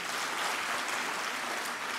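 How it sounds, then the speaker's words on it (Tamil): Audience at a Tamil speech event applauding, a dense, even wash of clapping that stays steady and fairly loud for the whole stretch, with no voice over it. "அவங்களுக்காக ஒரு தடவை கைத்தட்டுங்க எல்லாரும்"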